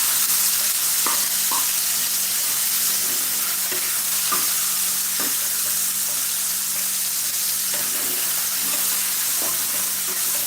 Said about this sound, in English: Keep stirring for some time.